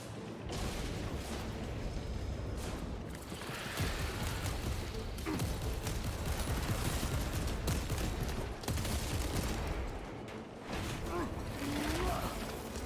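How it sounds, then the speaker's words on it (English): A bolt rifle fitted with a grenade launcher fires in a video game, a steady barrage of shots and mechanical clatter running throughout under a talking voice. "It's a bolt rifle with a grenade launcher."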